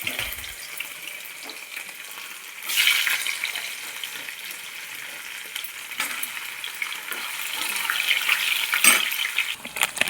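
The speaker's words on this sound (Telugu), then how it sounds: "పన్నీర్ని నూనెలో కానీ నేతిలో కానీ వేయించుకోవాలి" Paneer frying in oil or ghee, a steady close sizzle with occasional stirring scrapes and louder bursts of spatter, running continuously without talk.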